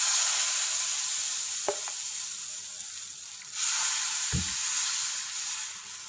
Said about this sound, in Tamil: இப்போது நம்ம வெஜ் ஆம்லேட் ஊற்ற ஆரம்பிக்கலாம்